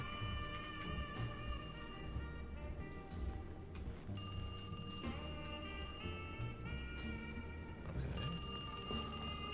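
In the Alone in the Dark video game, a telephone rings in repeated electronic bursts with short gaps between them. The ringing is moderately loud over a low, droning ambient background.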